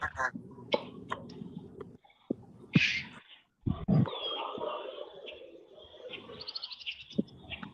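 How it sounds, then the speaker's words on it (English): Birds chirp and tweet intermittently against a steady outdoor background hum by the Susquehanna River during a fishing outing, with a few sharp calls standing out and some rumbling noise in the middle. "Definitely hearing the birds"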